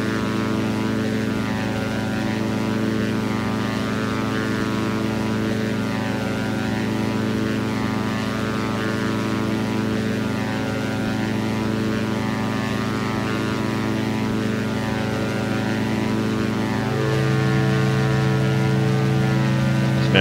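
Steady, loud propeller drone from the twin engines of a Diamond DA-62 in X-Plane 11, flying over Hawaii. It runs evenly throughout and shifts to a lower pitch near the end as power is reduced.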